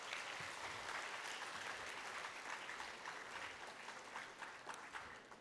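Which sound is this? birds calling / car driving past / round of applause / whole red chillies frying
round of applause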